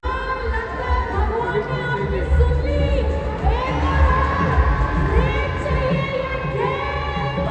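A large, dense crowd at a cricket match venue during an India vs Bangladesh game, with shouting, cheering and chatter swelling continuously and fairly close throughout.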